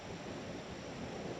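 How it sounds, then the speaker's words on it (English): Steady, broadband wind blowing across the microphone at Flamingo in the Everglades, a continuous rushing roar with no breaks and no voices. "Feel the wind blowing in."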